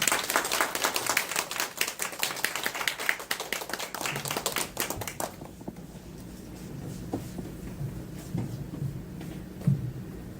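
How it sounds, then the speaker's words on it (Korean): Audience clapping welcomes a professor introduced at a lecture on Karen culture, dense and lively for about five seconds before breaking off, followed by quieter room sounds and small scattered knocks. "여러분 교수님을 큰 박수로 환영해 주시기 바랍니다."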